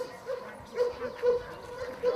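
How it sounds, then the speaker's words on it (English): Search and rescue puppies from a fire brigade give a few short, soft yips and barks in a steady rhythm, fairly close but not loud, with light background noise between them. "Here are the fire service's search and rescue dogs."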